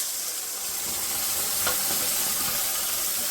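A tomato and garlic paste sizzles and spits in hot oil in a pan for a tomato chutney, a steady hiss with a brief stirring scrape partway through, with no talk over it.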